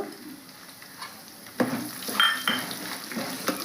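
Crushed garlic hitting hot oil in a pan while cooking spicy Rayalaseema-style boruglu, a soft background sizzle that jumps in loudness midway, joined by a few stirring scrapes and clinks, close and without voices.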